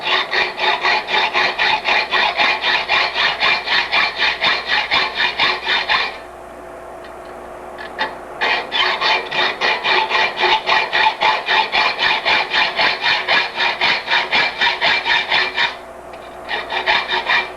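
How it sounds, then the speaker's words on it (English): Hacksaw with a fine 32 teeth-per-inch blade cutting slots 6–8 mm deep into a steel bicycle frame lug, a steady rhythmic rasping of quick back-and-forth strokes, close and loud, pausing twice briefly before resuming. "You'll be wanting to use a hacksaw with about 32 teeth per inch for this maneuver."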